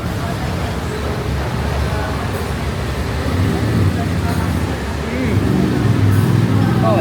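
Heavy street traffic in Bali, a dense rumble of passing cars and motorbikes with occasional rising engine swells, loud and continuous under a background murmur of voices.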